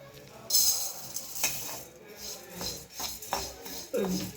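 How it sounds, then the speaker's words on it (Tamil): Red poha flakes dry roasting in a pan, with dry rustling and scraping plus intermittent clinks of a spoon against the metal pan, fairly close, while a voice speaks briefly. "பாண்டில் வச்சுட்டு இதில் வறுக்கணுங்க சும்மாவே வறுத்தணும்"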